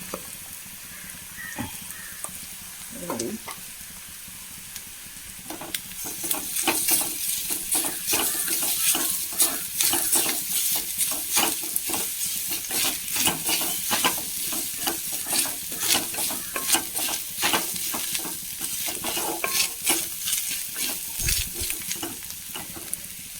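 Grated coconut is stir-fried in a pan, sizzling steadily while a spoon scrapes and taps in a quick, repetitive rhythm, close by, after a quieter opening with a few knocks.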